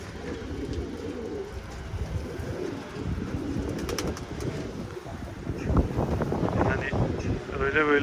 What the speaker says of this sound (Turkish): Rüzgar da aksi gibi ben uçumu yaptıktan hemen sonra inanılmaz şiddetlendi